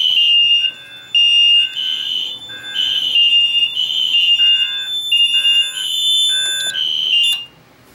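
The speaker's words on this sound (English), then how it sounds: "But anyways, fire alarm. Ooh, that, hard to pull." Siemens fire alarm going off after a pull station is activated, loud repeating electronic tones in bursts of alternating pitch, sounding alone without talk.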